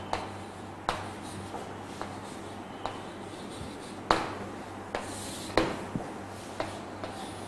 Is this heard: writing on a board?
yes